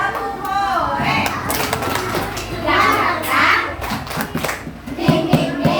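Young children clap together in a rhythmic 'tepuk goreng' clap chant with a teacher, their hands keeping time while their voices chant along loudly throughout.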